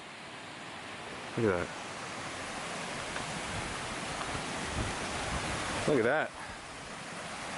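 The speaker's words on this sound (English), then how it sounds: "See this creek or stream or river, whatever the hell you want to call it." A mountain creek near North Lake in Inyo National Forest flows with a continuous rushing wash, steady and moderately loud, while someone speaks briefly twice over it.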